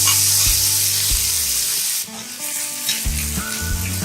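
Grated ginger sizzles in melted butter in a pan over a low flame, a steady close frying hiss running throughout, with soft stirring and background music under it.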